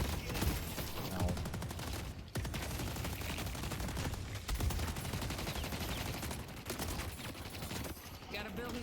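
Gunfire in the video game Deadlock, dense rapid bursts of automatic shots sounding almost without pause across the stretch with brief gaps, loud and busy game audio.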